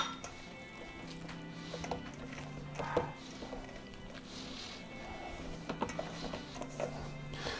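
An electric mixer churns wet Italian bread dough with olives, whirring with gear-like mechanical grinding, irregular clunks and knocks of the dough against the bowl, moderately quiet and close.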